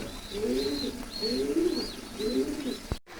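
High-quality Milli pigeons on a breeder's farm coo in a repeated rhythmic series of soft, throaty calls, close and distinct, ending with a brief knock and sudden cutoff.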